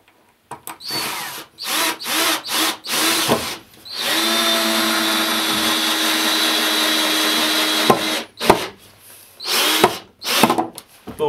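Power drill driving screws into old wooden floorboards during a cabin floor restoration in the mountains, short bursts of whirring followed by a long sustained run and more brief trigger pulls, loud and close.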